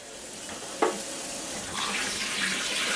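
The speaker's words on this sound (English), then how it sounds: "Cold water." Cold tap water runs steadily over just-drained spaghetti in a kitchen sink, a continuous close splashing hiss with a brief louder gush early on and a fuller flow near the end.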